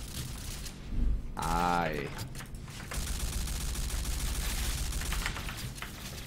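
Gunfire from the G364 rifle in a video game, a steady sustained stream of rapid shots filling the last few seconds, with a brief spoken syllable and some mechanical noise beforehand.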